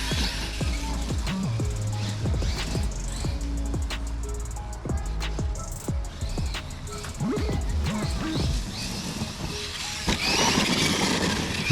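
A small LMT Son of a Digger (Gravedigger) 4x4 RC monster truck drives and jumps, its motor whining in short bursts with sharp thuds and clatters of landings and knocks, fairly close and without talk.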